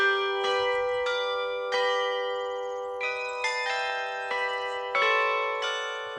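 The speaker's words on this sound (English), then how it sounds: "he insisted on showing me one of his jewels, a rather special set of Angelus bells intended to impress his foreign visitors." A set of Angelus bells at a wine chateau rings out in a melodic sequence of clear, sustained strikes, each new note layering over the lingering hum of the last, loud and close with no talk.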